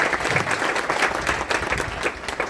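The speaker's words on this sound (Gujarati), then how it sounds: "એમના માટે એક વખત જબરજસ્ત તાળી થઈ જવા" An audience at a business presentation event in Gandhinagar bursts into dense, sustained applause, many hands clapping together steadily without a break.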